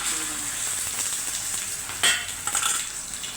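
Beaten egg omelette mixture sizzling in very hot oil on a pan, a steady close hiss with a sharp clatter of a utensil against the pan partway through.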